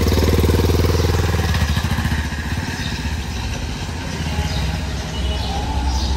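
Modified Bajaj Pulsar 220F motorcycle with a new swingarm on a slow test ride, its engine running in a steady low rumble close by, loudest at the start and then holding an even drone.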